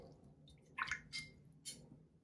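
A watercolour brush is rinsed in water, with a few soft splashes and drips in quick succession, close and quiet.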